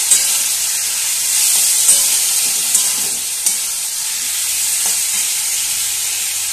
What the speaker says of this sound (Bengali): গ্যাসের ফ্লেমটা একটু লো করে দিয়ে ভালো করে নাড়াচাড়া করে নিতে হবে